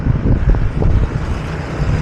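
Strong headwind buffets the microphone during a bike ride with a constant low roar and gusty rumbling, with no voices.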